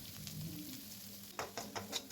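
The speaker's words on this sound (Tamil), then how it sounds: "வெங்காயத்தை கொஞ்சம் உப்பு சேர்த்து நல்லா வதக்கிக்கோங்க." Faint sizzling of chopped onions frying with salt in a pan, with a few soft stirring scrapes near the end, heard alone without talk.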